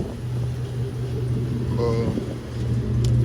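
A lifted Chevrolet Tahoe on 24x14 wheels idles with a small exhaust leak, a steady low rumble close by with a faint raspy edge, while someone briefly speaks over it.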